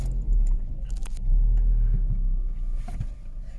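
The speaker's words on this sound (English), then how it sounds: "just start the car up." A Vauxhall Astra H car engine running with a steady low rumble close by, with a slight swell as it settles, and no voices.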